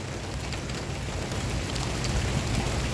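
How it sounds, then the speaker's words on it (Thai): Heavy rain pours down outdoors in Thailand, a dense, loud, continuous hiss of drops on surfaces with no talking. "ฝนตกมาแล้ว ฝนตกมาแล้ว นี่พี่น้อง"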